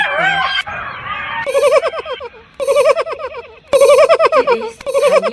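A hyena makes rapid, giggling laugh-like calls in repeated bursts of high, chattering yelps, loud and near, with short pauses between the volleys.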